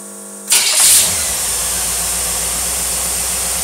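An engine fitted with a Holley 750 vacuum secondary carburetor cranks and fires after half a second of a low steady hum, flares briefly, then settles into a steady, loud idle.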